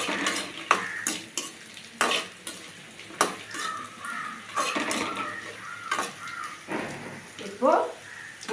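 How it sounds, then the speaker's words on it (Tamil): Dried red chilies fry in hot oil in a pan, a steady crackling sizzle broken by sharp clinks and scrapes of a stirring utensil against the metal, close by. "காஞ்ச மிளகாய் போட்டு லைட்டாக மிளகாய் சூடு ஏறணும்."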